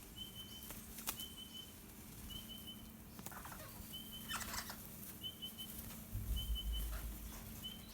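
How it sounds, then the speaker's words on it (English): Rainbow lorikeets and crimson rosellas at an outdoor gathering in Australia give repeated short high calls and chirps, with bursts of wing flapping and rustling nearby over a low steady hum. "You got the rainbow lorikeet. So you got the crimson rosella."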